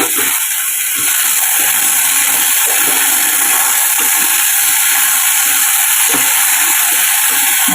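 Potatoes frying in a pan after tempering spices: a loud, steady sizzle and hiss that continues without a break, close up, with no voices.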